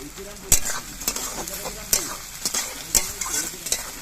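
Chopped tomato and green peas frying in a pan for alur dom, a steady sizzle punctuated by regular sharp scrapes and taps of a spatula stirring, close up, without voices.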